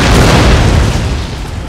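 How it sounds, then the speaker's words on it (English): Howitzer artillery bombardment in the Napoleon: Total War video game: one loud, deep boom with a broad roaring wash that slowly fades, heard alone. "my howitzers are constantly bombarding his men"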